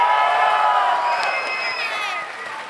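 A panel audience at Anime Expo 2023 cheers and claps in a dense, loud crowd roar with whoops and shouts that gradually tapers off, with a voice speaking faintly underneath.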